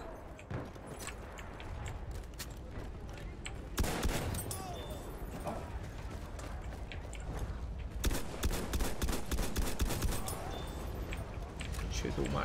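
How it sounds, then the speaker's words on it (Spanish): Machine gun fire and other gunfire in the video game Battlefield 1, rapid crackling bursts throughout, with voices talking over it. "Vi una ametralladora."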